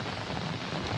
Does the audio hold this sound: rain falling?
yes